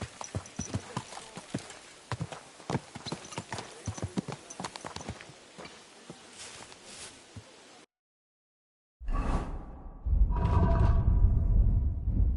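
Horse hooves clip-clop in a steady rhythm during a ride in Kingdom Come Deliverance 2, close and clear for about eight seconds, then stop; after a brief silence a louder, broad rumble of other noise takes over.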